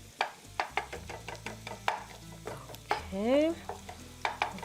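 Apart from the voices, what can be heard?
stuffed zucchini frying in a pan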